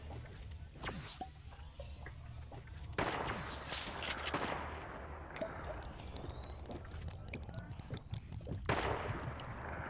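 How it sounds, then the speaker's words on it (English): Sniper rifle gunfire in a Fortnite match sounds as several sharp distant cracks spread across the scene, faint and scattered over game ambience. "Sniper fire! Sniper fire!"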